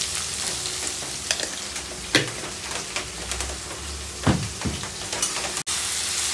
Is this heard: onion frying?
yes